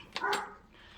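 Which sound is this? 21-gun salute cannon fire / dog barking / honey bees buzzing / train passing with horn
dog barking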